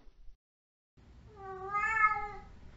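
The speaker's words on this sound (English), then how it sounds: "He's everyone's favorite, Rupert the Cat." A single cat meow, drawn out and tonal, rising and falling over about a second and a half, fairly close and clear after a brief quiet stretch, with low background rumble beneath it.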